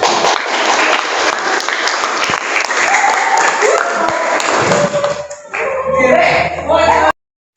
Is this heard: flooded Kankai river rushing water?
no